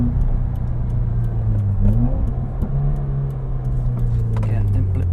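A Subaru WRX engine, a 2016 model, blips its revs in a quick heel-toe throttle jab, a sharp rise and dip in the engine note under steady road and cabin drone, with a voice talking over it.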